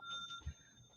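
A phone plays the Mercari app's sale notification chime, a faint, sustained bright tone lasting about a second, with a soft thump partway through.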